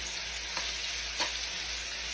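Chicken for Thai basil chicken sizzles steadily in hot oil with a bright hiss, with a couple of soft clicks or pops.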